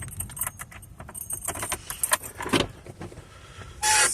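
Keys jangle close by while a 40-year-old Toyota 4Runner is being started. Rattling and clicks continue for a few seconds, then a louder engine-like burst rises at the end.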